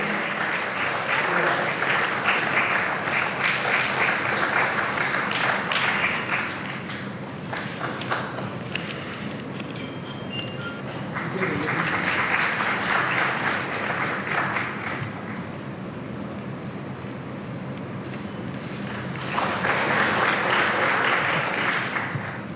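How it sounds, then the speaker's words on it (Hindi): Audience at an awards ceremony clapping in three strong waves separated by quieter stretches with a voice speaking over a hall system. "आप लोग अपनी तालियों से सतत अभिनंदन कर सकते हैं"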